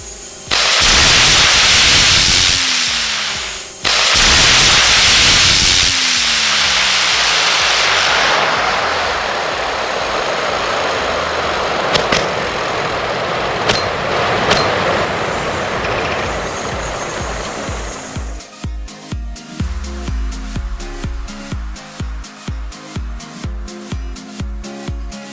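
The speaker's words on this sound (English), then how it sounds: "Let's put some more rockets in it and try again." Rockets mounted on a spinning stretch-wrap wheel fire with a loud continuous roaring blast that swells and fades, then gives way to a rapid series of sharp popping bursts near the end.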